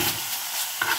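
Food frying in oil in a pan while being stirred, a continuous close hissing sizzle with a brief scrape of the spoon near the end, no voices.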